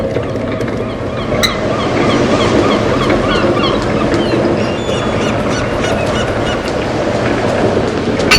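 A flock of perched birds in the game Broken Pieces, heard as scattered honking and cackling calls over a loud, constant wash like surf.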